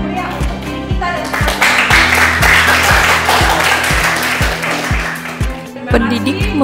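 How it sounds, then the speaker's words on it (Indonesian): A classroom of students and their teacher clap for themselves at the end of a lesson, a loud, dense burst of applause over a repeated low rhythmic thump, with voices mixed into the noise. "Maka Ibu ingin kita semua memberikan tepuk tangan yang meriah untuk diri kita"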